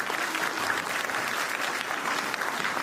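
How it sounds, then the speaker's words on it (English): An audience at a storytelling competition grand finale claps for the judges, a steady, full round of applause holding at an even level from start to finish. "A big round of applause for both of them."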